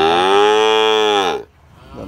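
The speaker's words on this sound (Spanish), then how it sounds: "compartiendo la comida con las vacas ahí" A cow gives one long, loud, close moo that holds steady for over a second and then cuts off, followed by quiet farmyard background while cattle feed.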